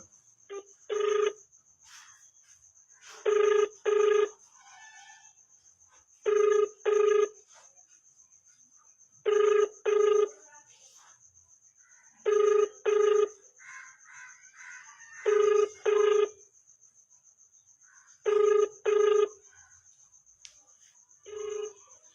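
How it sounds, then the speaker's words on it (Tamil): A telephone rings on an outgoing call: eight evenly spaced double-ring bursts, clear and close, separated by short pauses and repeating steadily over a faint background tone. "அந்த நம்பருக்கு ஃபோன் அடிக்கிறேன்"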